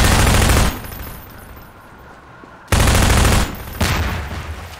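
Rapid automatic gunfire from a Half-Life 2 mod shooter game, loud dense bursts at the start and again near the end, separated by a quieter stretch of low background hum.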